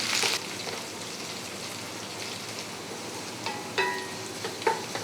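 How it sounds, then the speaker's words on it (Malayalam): Garlic frying over a medium flame for beetroot pickle, a soft steady sizzle with a few faint clinks and scrapes toward the end, no talking. "വെളുത്തുള്ളിയുടെ നിറം ചെറുതായിട്ടൊന്ന് മാറണം ചെറിയൊരു മഞ്ഞ നിറമാകണം അതുവരെ ഒന്ന് വഴറ്റുക"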